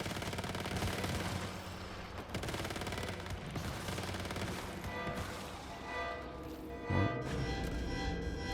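Sustained bursts of gunfire from the Once Human video game during a raid on the Securement Silo, loud rapid shots layered over a dense game soundscape, with no talking.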